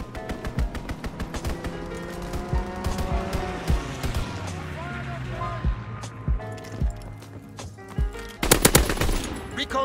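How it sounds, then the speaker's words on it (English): Video game enemy strafing run: rapid bursts of automatic gunfire rattle repeatedly over engine roar and battle noise, growing louder and denser near the end, with game voice lines heard. "Enemy strafing run incoming."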